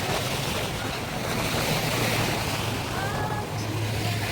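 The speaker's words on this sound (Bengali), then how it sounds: "বাইরে বাতাস এবং সাগরের পানি উত্তাল" Rough Arabian Sea surf churning under strong wind along the shore, a continuous broad roar with gusty microphone buffeting and no clear speech.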